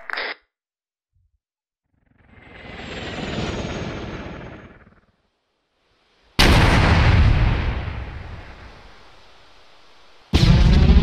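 Repeated heavy explosions in ARMA 3 during a British Army squad mission, with a short sharp blast at the start, a swelling rumbling boom around three seconds, then a loud sustained detonation that rolls off before another blast cuts in.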